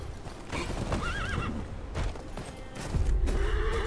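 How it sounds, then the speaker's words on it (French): A horse in the Game of Thrones Kingsroad video game gives a short, clear whinny, with hoof clip-clops and game ambience continuing around it and no talking. "maintenant on a le cheval, du coup, ça va aller plus vite"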